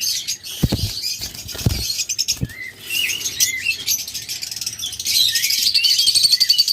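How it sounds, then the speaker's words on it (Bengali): An albino Fischer's lovebird pair in a cage gives a few bursts of wing flapping and scuffling, then high chirps and squeaky calls build and continue close by. "আমাদের কাছে রয়েছে অ্যালবিনো ফিশার জোড়া একদম টপ কোয়ালিটির"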